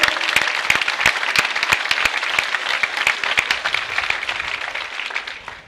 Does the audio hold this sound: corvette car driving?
no